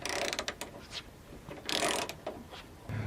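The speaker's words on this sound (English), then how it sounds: "switch back to the T50, and now let's undo this other hinge bolt in the tailgate" A ratchet with a T50 bit turns a tailgate hinge bolt on a 2019-2020 Ford Ranger, giving quick, close bursts of clicking pawl and metal mechanism noise with no talking.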